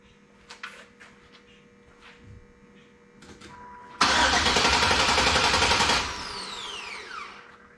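An LS-swapped Impala SS engine is cranked, with clicks and small knocks before a loud two-second burst of starter whirring that fails to catch, followed by a falling whine as it spins down.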